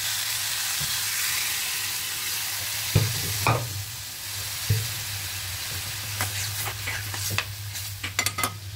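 Boiled mung dal stirred into radish frying in a pan, with a steady sizzle, a low hum beneath, and scattered scrapes and clatters of stirring growing busier toward the end, no voices.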